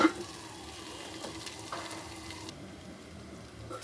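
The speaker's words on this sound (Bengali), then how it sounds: "আলুটা আর পেঁয়াজটা ভাজে" Potato and onion fry in a covered pan over a high gas flame, giving a soft, steady sizzle at low volume with a few faint clinks, and no talking.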